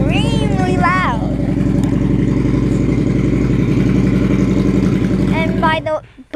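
A freshly repaired motorcycle being test run idles loudly and steadily at close range, with a constant low throb, a squealing sound near the start and end, and a sudden drop as it shuts off.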